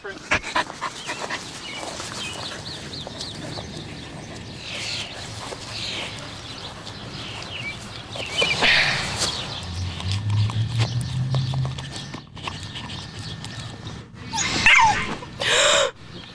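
A dog pants, whimpers and lets out high yips and short barks, close and fairly loud, with speech running over parts of it.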